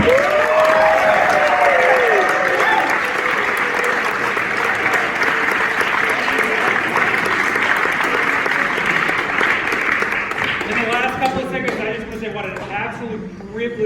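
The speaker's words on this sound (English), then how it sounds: "Can we give a gigantic round of applause to Mr. Carl Braun?" A large crowd claps steadily, a dense wash of applause with cheering voices mixed in, tapering off near the end.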